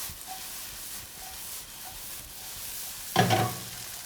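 Green beans and onions seasoned with salt and pepper sizzle in a hot pan, a steady soft frying hiss, then one brief louder clatter as the vegetables are tossed near the end.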